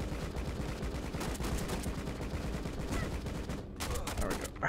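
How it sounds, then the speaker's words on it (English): An automatic shotgun fired by an enemy in the video game Rocketbirds 2 Evolution lets off a quick, even string of shots, quiet and somewhat distant, with a few louder cracks near the end. "That is an automatic shotgun that guy has."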